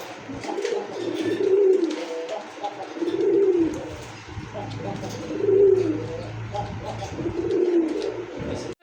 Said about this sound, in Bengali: এটা ইন্ডিয়ান নাপ্তা কবুতর